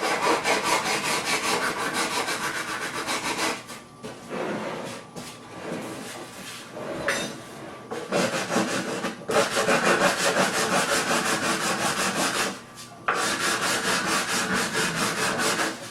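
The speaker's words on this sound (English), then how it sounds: "Never, ever sand without a block." A sanding block rubs back and forth along a wooden binding channel, giving loud, steady rasping strokes in long bursts separated by brief pauses, close up with no talking.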